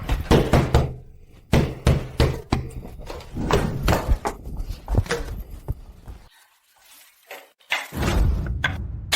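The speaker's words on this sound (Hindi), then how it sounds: "मीरा, मीरा, दरवाजा खोलो, मीरा।" Someone pounds hard on a door in loud, close, irregular bursts of heavy knocks, pausing briefly into near silence before a final flurry of blows.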